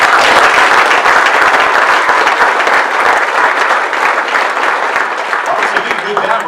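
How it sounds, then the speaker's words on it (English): Loud, dense applause from a crowd of neighbors at a Roswell City Council candidate debate, a sustained wash of clapping throughout with no pauses. "maybe a round of applause for every one of our neighbors that's put himself out here today"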